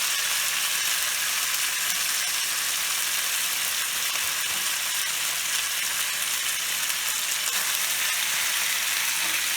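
Leftover pasta fries in a hot pan, a steady dense sizzle and crackle of splattering oil that holds at an even level close up for the whole stretch, with no voices.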